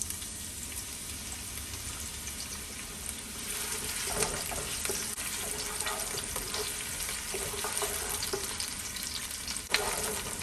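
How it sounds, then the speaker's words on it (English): Onions sautéing in a pot for Jamaican-style curry chicken, a steady close sizzle and frying hiss with occasional stirring scrapes and clicks, no talking. "First, I'm gonna start to saute some onions."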